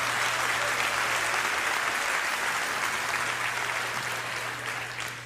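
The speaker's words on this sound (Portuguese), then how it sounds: "Pode dar uma salva de palmas." A crowd gives a round of applause during a talk at a church event, dense continuous clapping that fills the space and tapers slightly toward the end, with a low steady hum beneath.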